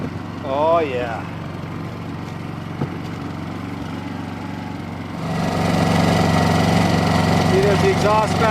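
A portable generator runs steadily inside a ventilated box at a snowy winter cabin, a constant mid-pitched engine hum that grows louder and fuller partway through, with someone talking over it.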